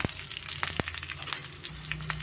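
Close, crackling sizzle of a tempering of crushed garlic and asafoetida frying in hot oil for raw mango chutney, with rapid popping and spitting throughout.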